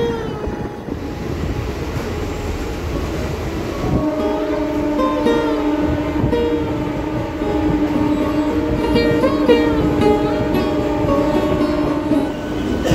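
An Amrit Bharat special locomotive train rolling along the line near Howrah, heard as a steady loud rumble of wheels and carriages with a sustained tonal hum and clattering rail noise, close by.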